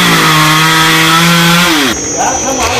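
Chainsaw engine running loud and steady as it cuts through the top of a 26-metre golden oak tree, its pitch shifting near the end as the cut finishes and the saw revs down; people talk faintly underneath.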